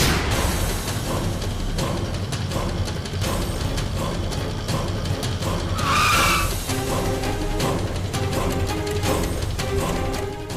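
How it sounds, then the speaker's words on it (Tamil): A car driven recklessly fills the scene with a loud engine roar and a sharp high tire screech as it skids, heard over a dense dramatic music bed from a Tamil TV serial, no speech. "யார் இவன் முட்டாள் மாதிரி வண்டி ஓட்டுறான்?"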